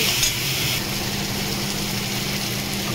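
Tomatoes sautéing in a pan for a Bengali fish curry give a steady, close sizzle and soft stirring under a constant hiss, with no speech.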